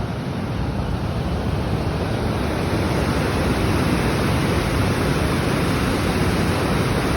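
A waterfall in Raymondville, New York roars as a dense, steady broadband rush of falling water, loud and unbroken throughout, with no voices over it.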